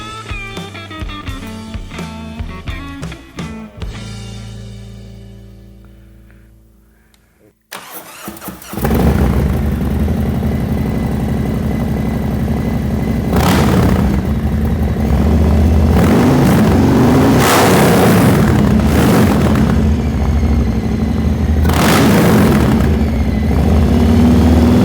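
A motorcycle fitted with a Vance & Hines stainless steel 2-into-1 upsweep exhaust fires up after a fading tonal intro and settles into a loud, deep, steady rumble. A few throttle blips swell above the idle.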